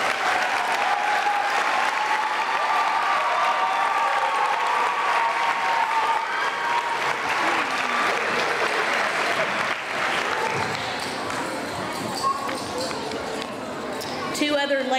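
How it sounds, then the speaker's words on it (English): An audience at an elementary school testing awards ceremony applauds warmly throughout, a dense wash of clapping that slowly thins toward the end, with a voice briefly audible beneath it. "let's give Ms. Pike a round of applause"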